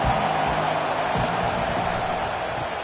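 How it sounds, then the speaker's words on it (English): A packed stadium crowd at a college football game keeps up a steady, dense roar throughout, loud and unbroken, as the fans try to rattle the opposing offense. "This crowd trying to make life miserable for this offense"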